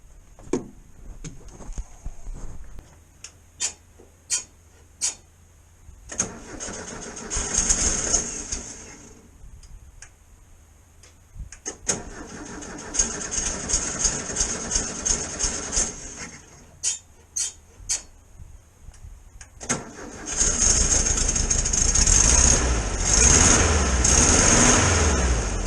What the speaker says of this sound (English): So I'll whiz it over now and we'll see what happens.